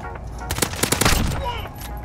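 Gunfire in Call of Duty Modern Warfare: after a quiet lead-in, a quick burst of several sharp, loud shots cracks out in rapid succession, then trails off into low background noise.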